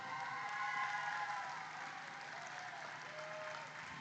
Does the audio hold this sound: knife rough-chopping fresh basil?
no